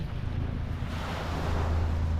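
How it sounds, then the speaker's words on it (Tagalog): Sea waves wash onto a beach in a steady, loud roar of surf, with wind buffeting the microphone and a low rumble underneath throughout. "papunta po tayo ngayon sa playa. Yan. Ayan po yung dagat."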